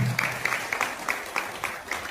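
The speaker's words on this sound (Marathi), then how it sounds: "एकदा सर्वांनी या सदस्यवाडीतील सर्व भजनी मंडळासाठी, या ट्रस्टी मंडळींसाठी जोरदार टाळ्या" Applause at a temple kirtan for the bhajan groups and trustees, a short burst of brisk, even clapping from a crowd, mid-distance and moderately loud.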